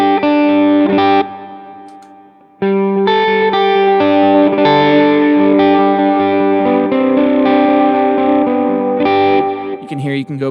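Electric guitar played through an all-purpose worship preset with the delay switched off, ringing sustained chords with chorus-like shimmer and mild drive; a strummed chord decays, a short lull follows, then fuller chords swell loud and steady to the end.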